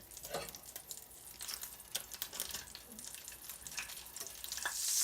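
Butter melting into hot sausage grease in a frying pan, a soft steady sizzle with scattered stirring scrapes and small pops, close and fairly quiet, rising slightly toward the end.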